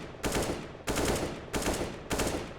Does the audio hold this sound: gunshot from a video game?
yes